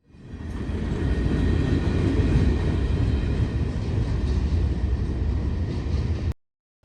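A freight train rolls along Norfolk Southern tracks near Elkhart, Indiana, a loud continuous low rumble and rattle of railcars that builds quickly and holds steady before cutting off abruptly.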